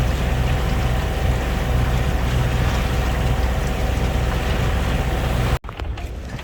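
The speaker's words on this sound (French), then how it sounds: "il y a du vent, hein. Il y a du vent." Strong wind roars steadily across a sailboat at sea, a loud continuous rush with rigging and hull noise, then an abrupt cut and a slightly quieter gust.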